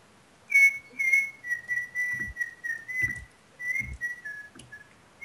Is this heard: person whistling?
yes